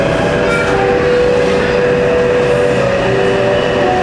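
A Taipei Metro subway train arrives at the platform, rumbling loudly and continuously close by, a heavy roar with a steady metallic whine riding on top.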